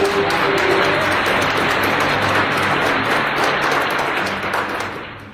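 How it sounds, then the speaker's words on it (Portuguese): A church congregation applauding, a loud sustained roar of many hands clapping that stays even and full before tapering off at the very end. "Se você pode dar um forte aplauso"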